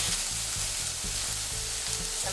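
Vegetables sauté in a hot pan on their way to crispy brown, making a loud, unbroken sizzle close up with a faint low rhythmic pulse beneath it.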